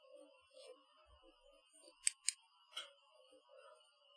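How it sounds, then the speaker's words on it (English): Scissors snip roughly at a floating dragonfly nymph fly during fly tying, two quick sharp cuts close together followed by a softer third, faint and close in an otherwise quiet room. "But first I will shave it with my scissors roughly"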